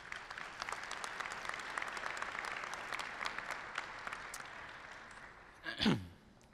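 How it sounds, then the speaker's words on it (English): Graduates at a fall commencement of a media and culture school applaud themselves, a sustained crowd of clapping hands with scattered sharper claps, ending in a brief louder vocal swell like cheering or a sigh from the crowd. "I want you to give yourselves a round of applause there"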